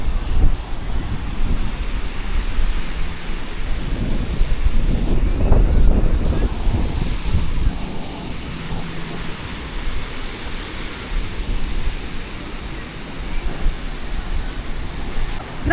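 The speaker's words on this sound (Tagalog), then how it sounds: "Grabe, ang lakas ng alon doon." Strong sea waves wash onto a beach at Magra Beach Resort in Quezon, a continuous broadband rush with swelling surges, mixed with wind buffeting the microphone and no talk.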